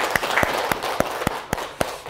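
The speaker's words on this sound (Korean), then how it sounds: "자신을 위해 가지고 박수 한번 칩시다." A small lecture audience claps in loose, scattered fashion, a handful of distinct sharp hand claps spaced irregularly over a soft bed of lighter clapping, close and fairly clear, with no speech.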